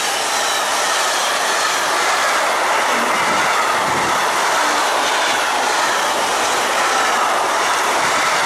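A train hauled by a class BR 110 locomotive rushes past close by, a loud, steady wash of rolling wheels and rail noise with faint clickety-clack, filling the whole stretch without pause.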